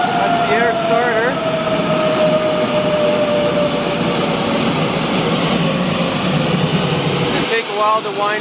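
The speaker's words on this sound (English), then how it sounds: "Okay, that's the start cart winding up." An air starter cart for a turbine engine winds up with a loud, continuous roar and a high whining tone, heard close and steady throughout.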